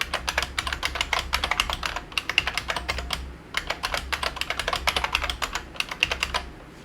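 A password typed on a computer keyboard: rapid, steady runs of crisp key clicks close by, with a brief pause midway before another burst, over a low constant hum.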